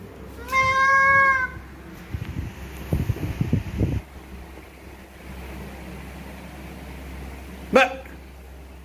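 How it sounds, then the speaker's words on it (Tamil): A cat meows twice, first a clear drawn-out meow and later a short one, fairly close, with some rustling and handling noise between them. "இன்னைக்கு பயமா இருக்க பூனை கத்துறது."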